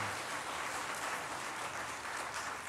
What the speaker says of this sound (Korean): 설교에 박수가 좀 이상하긴 하지만 우리 나로들의 생각하면서 박수도 한번 해봤습니다